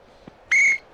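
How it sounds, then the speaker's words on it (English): A referee's whistle at a 1975-76 NBA basketball game between Atlanta and Los Angeles, one short, sharp, shrill blast of under half a second, loud and close, after a faint thump. "And that's a whistle and an offensive foul."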